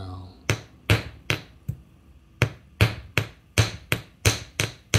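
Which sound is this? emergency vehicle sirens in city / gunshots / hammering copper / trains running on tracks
hammering copper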